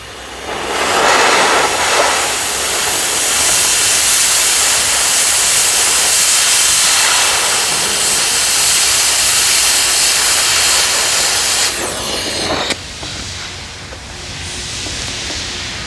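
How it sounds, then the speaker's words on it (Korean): A high-pressure oxygen jet from an oxy-fuel cutting torch roars as a broad, loud, steady hiss while it cuts a steel H-beam, then its pitch shifts abruptly near the end. "이제 좀된것 같은데 고압을 한번 열어볼게요"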